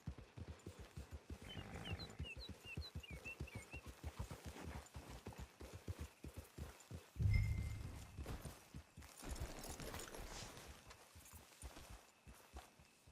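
Horse hooves clip-clop at a walking pace in Red Dead Redemption 2, a steady run of close, distinct hoof falls with one heavier thud partway through and no talk over it.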